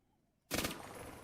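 A sudden loud gunshot in the Roblox game A Dusty Trip breaks a near-silence, followed by a sustained ringing tail.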